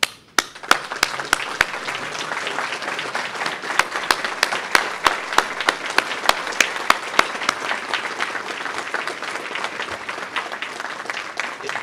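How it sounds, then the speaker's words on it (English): A standing audience at the United Way of Greater Plymouth County 100th annual meeting applauds the team and board, a dense, steady wash of clapping lasting throughout, punctuated by sharp individual claps close by. "if you could all stand for a big round of applause for everything you do"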